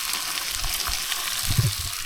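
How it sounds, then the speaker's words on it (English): Bacon sizzles in a frying pan on a gas camping stove, a steady close crackle and hiss running throughout with a slightly louder pop-filled burst near the end. "We've got the bacon on the go in the frying panel."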